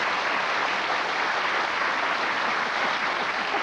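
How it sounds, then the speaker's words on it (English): Studio audience applause on a cooking game show, a dense, even wash of clapping at a steady loud level throughout with no pauses. "Round of applause"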